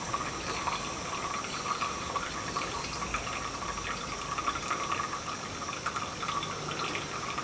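Water runs and drips steadily, a continuous close hiss of flowing liquid like a tap filling, with slight surging and no voices.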